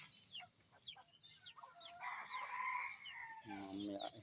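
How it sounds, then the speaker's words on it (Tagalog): Backyard chickens on a small mini farm cluck in short scattered calls before a rooster's crow rings out, with further clucking close by and quiet ambience between. "Yan, mga manok ko."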